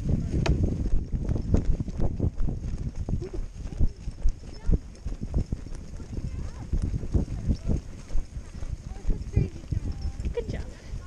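Rhythmic hoofbeats of a Paso Fino horse cantering on soft ground on a cross-country jumping course, steady and fairly close, with people talking and calling out over them.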